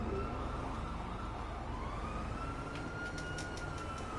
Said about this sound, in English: But I still hear the sirens.